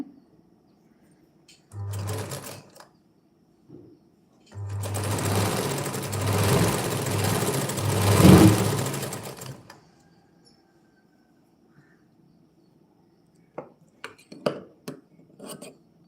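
A sewing machine stitches a long frock in several bursts: a short run, a brief tap, then a long steady whirring run of about five seconds, followed by quiet and scattered light clicks and knocks.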